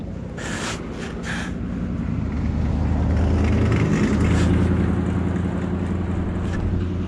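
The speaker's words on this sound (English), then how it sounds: "we got some traffic out here" Road traffic rumbles along a roadside in a steady, loud wash, swelling in the middle as a vehicle seems to pass, with wind buffeting the microphone throughout.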